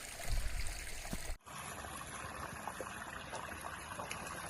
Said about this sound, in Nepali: यत्रो सानो खोला